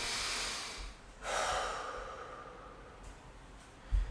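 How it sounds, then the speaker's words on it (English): A single big intake of breath taken during a lower-body mobility workout, a broad airy rush that swells and fades over a second or so, close and fairly soft against a quiet room. "So I'll take a big breath here."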